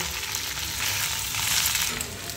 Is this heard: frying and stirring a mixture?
yes